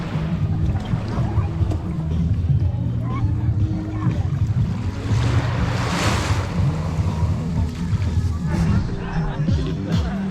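Ocean waves wash onto the shore at low tide under a cold morning sky in La Union, a steady rushing surf mixed with wind buffeting the microphone and low rumble, with voices talking underneath.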